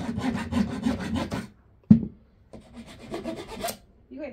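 A small saw rubs and rasps against a lock in quick back-and-forth strokes, a burst of scraping, a sharp knock, then more uneven rasping, heard up close with no talk over it.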